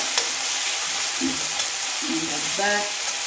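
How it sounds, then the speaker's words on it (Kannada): Tomatoes frying in a pan for fish curry, hissing with a steady sizzle while a spoon stirs and scrapes through them in short bursts, close and continuous for the whole stretch. "ಈ ಥರ ಕೈ ಆಡಿಸ್ತಾ ಇರಿ, ಇಲ್ಲಾಂದರೆ ಸೀದೋಗುತ್ತೆ ಟೊಮೆಟೊ"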